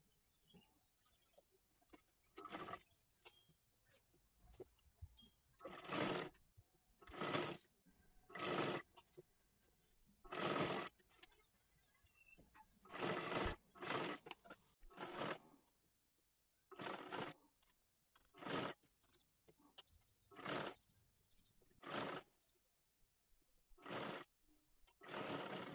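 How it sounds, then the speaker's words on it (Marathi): A sewing machine stitches a round seam on a dress made from a sari, running in repeated short bursts of a few seconds with quiet pauses between, close and fairly soft. "हे गोल राऊंड मध्ये आपल्याला शिलाई करून घ्यायचं आहे"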